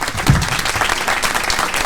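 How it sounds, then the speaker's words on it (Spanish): Audience applause at a film and content market session in Colombia, a full, even wash of many hands clapping for about two seconds with no talk over it. "Un aplauso, por favor, para ellos."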